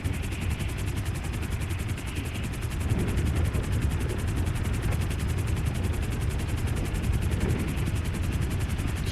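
A helicopter in GTA 5 Online flies with a steady, rapid rotor chop and a deep engine drone, loud and continuous throughout.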